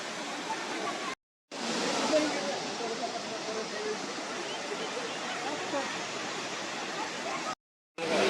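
Elephant Falls in Shillong, Meghalaya, its third tier spilling stepwise over rock, a dense steady roar of rushing water filling the scene, cut by two short silent gaps.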